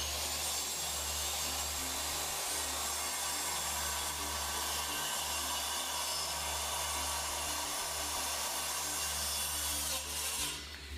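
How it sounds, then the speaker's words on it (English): A saw cutting out an MDF bottom piece for an arcade cabinet base makes a steady, continuous rasping roar that runs without a break before stopping abruptly near the end. "I'm going to cut this out. This will probably be the last time that I show just cutting up MDF."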